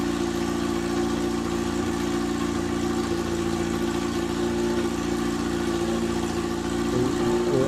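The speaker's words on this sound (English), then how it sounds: "We're idling it up, getting it ready to go." An EMPI engine idles steadily on a dyno ahead of a power pull at an engine competition, a loud, even mechanical drone with a constant low throb that lifts slightly near the end, with no talking.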